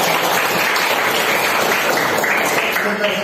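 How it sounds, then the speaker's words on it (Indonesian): A short burst of clapping from students in a school classroom during a lesson, dense and fairly loud throughout, with voices mixed in. "Tepuk tangan."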